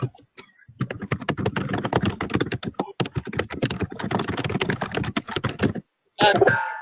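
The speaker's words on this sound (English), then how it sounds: "you're going to have to stop typing." Rapid typing on a computer keyboard, a dense stream of close clicking keystrokes for several seconds, then a short pause and a brief burst of a different sharper sound.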